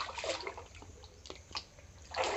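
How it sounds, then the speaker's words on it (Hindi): Water being drawn out at a forest temple, splashing and trickling in uneven bursts, louder at the start and end, with no speech. "पानी निकाल रहे हैं"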